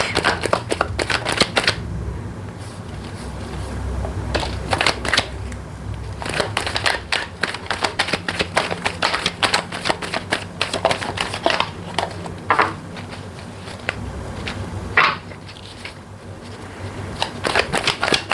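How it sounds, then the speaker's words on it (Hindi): Tarot cards are shuffled steadily and loudly up close, a dense run of crisp riffling and flapping bursts with brief pauses, no talking. "ये लास्ट शफल है।"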